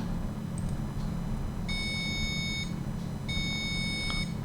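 Two short steady electronic beeps from a Z80 retro computer after a key press, each lasting about a second, clear and fairly quiet against a low background hum.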